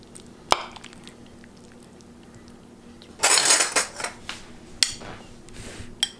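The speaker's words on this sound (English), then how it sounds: "So I'll dish a little bit of this up here." Hungarian goulash ladled into a bowl: a sharp clink of utensil on dish, then a burst of scraping and clattering metal against crockery, followed by a few lighter taps and knocks, close up.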